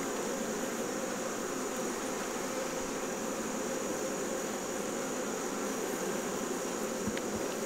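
Honeybees from a mite-infested hive, opened for a frame inspection, hum in a steady, dense buzz that stays constant throughout, close by and with no voices.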